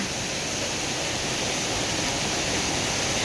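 Rain falls steadily outside a home in rural Thailand, a thick, unbroken hiss that stays loud and close for the whole moment with no voices.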